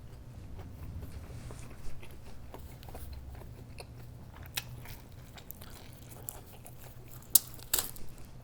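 Crunchy bites and chewing on a pizza slice topped with roasted garlic, several soft crunches scattered over a low background hum, with a couple of sharper bites near the end.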